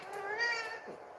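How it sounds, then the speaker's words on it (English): A cat meows once, a drawn-out, whiny cry with no one talking over it, heard fairly close in a quiet indoor room. "This cat is like really crazy."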